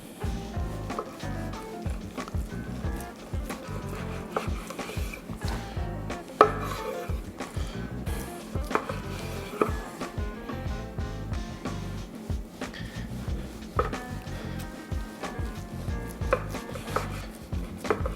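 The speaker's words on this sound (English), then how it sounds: "using a nice slicing knife like this makes it really easy because that bacon is nice and firm" Firm smoked bacon is sliced by hand with a slicing knife on a board, producing a steady run of close, rhythmic knife strokes and taps that continues throughout without any voices.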